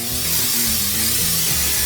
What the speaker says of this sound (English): Canola oil spray, and just hit the inside.